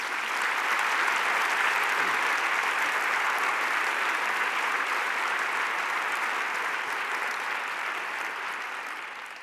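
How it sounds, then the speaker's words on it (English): Sustained applause from a large conference audience at Solve at MIT fills the space, a dense steady wash of clapping that slowly fades toward the end. "please give them another round of applause"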